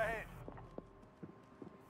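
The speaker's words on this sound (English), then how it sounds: "Heard a footstep." Footsteps in Call of Duty Warzone come as a few faint, evenly spaced soft thuds after a short burst of game noise, with quiet low background sound throughout.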